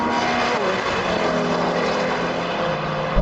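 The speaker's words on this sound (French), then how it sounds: "La M2 arrive, c'est tellement rapide." A BMW M2 approaching at high speed during a drag-style run, its engine a steady loud roar that holds constant throughout without pause.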